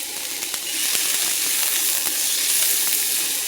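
Garlic and chopped vegetables sizzle steadily in a hot skillet with a bright, continuous hiss, broken by a few soft clicks and scrapes of stirring.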